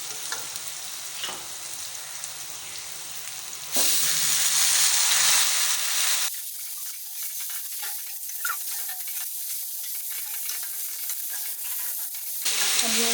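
Tomatoes dropped into frying tinda set off a loud burst of sizzling that settles into a steady hiss, with occasional stirring scrapes up close.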